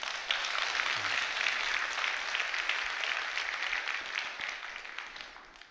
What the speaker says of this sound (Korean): 미리 박수 한번 해줘요